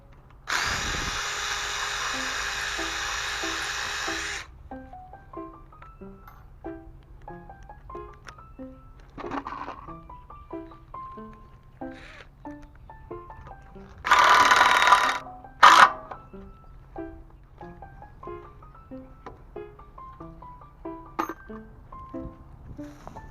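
A power drill bores mounting holes for a trailer reflector, with a loud steady whir for about four seconds, a second short burst later, and scattered clicks and knocks of handling in between, close and with no talk.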